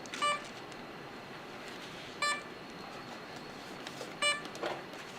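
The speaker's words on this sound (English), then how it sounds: "That beep's gonna drive me bonkers." A repeated electronic beep from an RC aircraft sounds three times at roughly two-second intervals, each short tone standing clearly above a quiet, hissy background.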